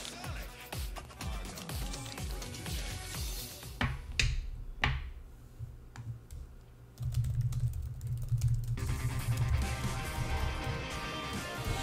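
Rapid clicking of computer keyboard keys during a gaming stream, bursts of typing close by with game audio and background sound continuing underneath.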